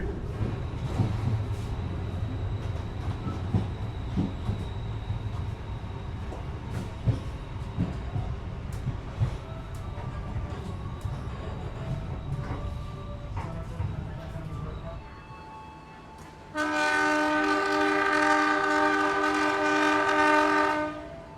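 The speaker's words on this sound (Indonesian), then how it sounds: "Kereta api Tawang Jaya berangkat kembali dari stasiun Cirebon Perujakan." The Tawang Jaya train rumbles and clatters as it pulls away from Cirebon Prujakan station, with brief horn blasts, then a loud sustained horn sounds near the end.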